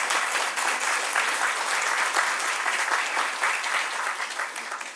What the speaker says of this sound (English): If you don't mind, give her a round of applause.